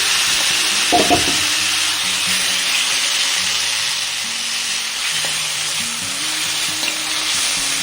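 Tomatoes sizzle steadily in a hot pan for chicken curry, a close, even frying hiss with occasional clinks and stirring scrapes.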